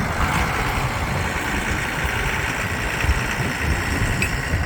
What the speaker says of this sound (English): So here he comes with the mower.